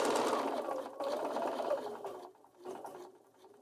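A Bernina 475 sewing machine stitches a quilted candle mat, its fast, steady motor hum running continuously at close range, easing off briefly before resuming near the end.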